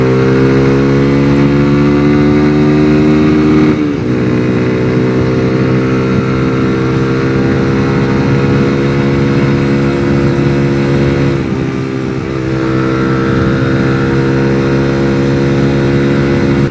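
A Suzuki Gixxer 155 motorcycle fitted with an Akrapovic exhaust rides through the city, its loud, steady engine drone holding even revs with brief dips at gear changes.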